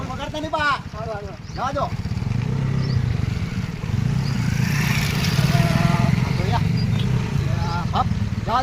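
A Honda Activa scooter is ridden with a low, steady engine drone that runs throughout, while voices talk over it near the start and again later.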